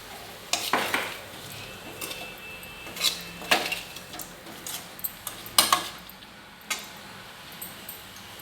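Potato aalu fry cooking in a pan, a soft steady sizzle under sharp scrapes and clinks of a spoon stirring against the metal, irregular and close, no talking.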